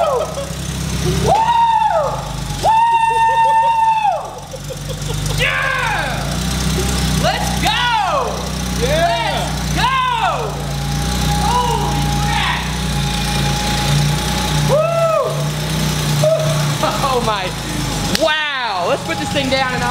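A barn find Porsche 911 engine runs and settles into a rough idle, a low steady rumble under excited voices, whoops and shouting throughout.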